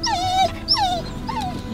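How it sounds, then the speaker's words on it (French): Several dogs whimper and whine in high, sliding cries, three distinct calls over a steady low background, just after getting out of a vehicle on arrival at a destination in Mexico. "Les chiens sont heureux d'être arrivés."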